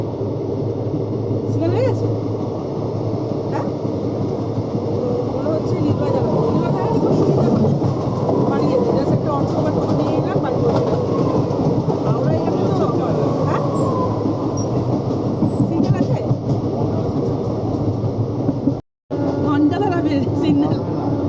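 A train heading toward Liluah station rumbles and rattles steadily with clattering wheels on the track. The noise is continuous and loud, and a brief dropout comes near the end.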